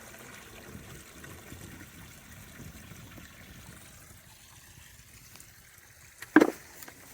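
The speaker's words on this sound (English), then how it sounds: "It's a waterfall." A waterfall's steady rushing water runs throughout at a moderate level, with a sharp thud of a loose rock near the end, on the Appalachian Trail.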